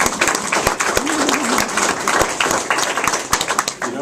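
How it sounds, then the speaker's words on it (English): Loud, close applause fills a central Milwaukee education center, many people clapping briskly and continuously with a few sharp standout claps and some voices mixed into the crowd noise. "I think we should give you a round of applause."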